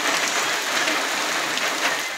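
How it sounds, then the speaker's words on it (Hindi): Steady rain in the Kachhu area of Dadu district, a continuous close hiss of drops striking surfaces, unbroken and without voices. "दादू के इलाके काछू और इतराफ में भी बारिश हुई।"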